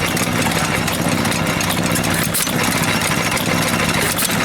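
An old Maytag stationary engine chugs along steadily up close at an antique engine show, a continuous rattling putter with no talking.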